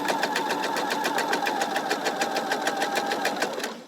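A sewing machine runs steadily, stitching a quilt seam a quarter inch from a diagonal line, its needle producing a fast, even mechanical chatter that holds continuously at close range before slowing at the end.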